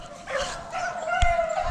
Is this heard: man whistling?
no